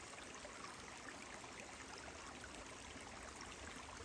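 Small mountain stream trickling along a water trail on the Appalachian Trail, a faint, steady wash of running water with no voices.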